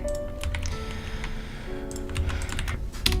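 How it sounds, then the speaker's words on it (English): Typing on a computer keyboard during a live Roblox Studio game-building session: a quick, uneven run of close, crisp key clicks that continues steadily throughout with no talking. "I don't know why I'm typing stuff in manually"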